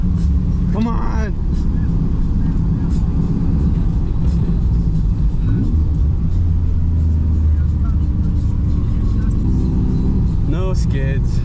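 A Nissan 300ZX drives up a foggy mountain road, its engine and road noise a steady loud rumble with people talking over it inside the car.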